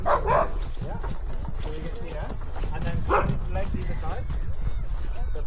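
Husky sled dogs in Svalbard bark, yip and whimper continuously at close range, a dense noisy chorus with people talking over it.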